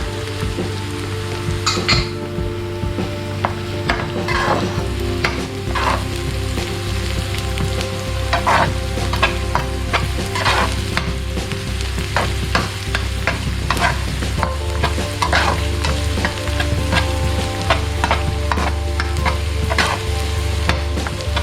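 Chopped garlic and lemongrass fry in a pan for a Sri Lankan chili paste, giving a steady, loud sizzle throughout with repeated scraping and stirring clicks from the utensil against the pan, and no voices.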